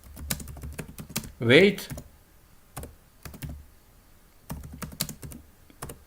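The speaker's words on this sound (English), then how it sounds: "here in search bar I will type how to lose" Rapid clicking keystrokes come from a computer keyboard typing into the Quora search bar, close and crisp in short bursts broken by pauses, with one brief spoken word in between.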